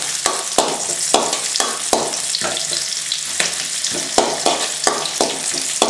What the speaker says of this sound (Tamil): இப்போ அந்த பூண்டை நசுக்கி வச்சுருக்கிற பூண்டை இதில் சேர்த்துருவோம். இதை நல்லா வதக்க வதக்கிக்கலாம் இந்த எண்ணெயிலேயே.